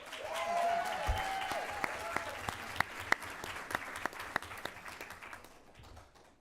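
Audience applause at a county school board meeting, a burst of mixed clapping with sharp individual claps that thins out and fades over several seconds.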